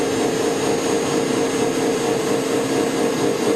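A gear hobbing machine with multiple cutters mounted on a single shaft cuts a gear, giving a loud, steady industrial whir with a constant hum and no pauses.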